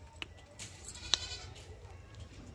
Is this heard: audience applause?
no